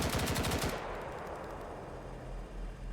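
Sustained machine gun fire in the Roblox military game BRM5, a fast rapid burst loud in the first second, then fading into a lingering echoing rumble of distant fire.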